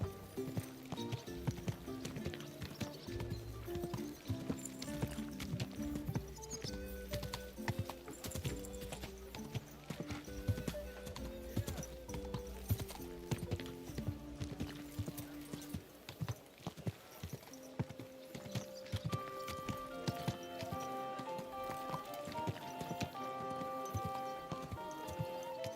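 Horse hooves clip-clopping in the medieval game Kingdom Come Deliverance 2, a steady rhythmic walking beat of hoofsteps running continuously under game music.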